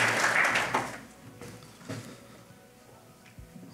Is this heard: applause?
yes